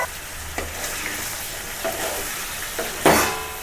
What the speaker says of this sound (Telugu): ఇప్పుడు ఆలుగడ్డలు ఒక మూడు నాలుగు నిమిషాలు ఫ్రై అయిన తర్వాతకి ఇప్పుడు వంకాయలు వేసుకోవాలి